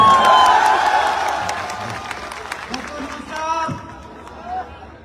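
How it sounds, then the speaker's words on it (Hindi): A large audience claps and cheers at a motivational stage event on Ayurveda and national pride, a loud dense roar that swells at first then slowly thins, with scattered shouts and voices mixed in. "ऐसे ताली होनी चाहिए अपने देश के लिए।"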